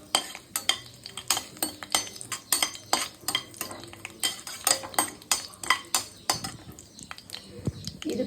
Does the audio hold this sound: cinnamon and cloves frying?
yes